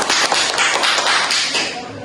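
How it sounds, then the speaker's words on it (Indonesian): Classroom students applauding their classmates, a brief burst of dense, fairly loud clapping that rings out steadily for about two seconds. "Beri aplaus kepada teman-temannya"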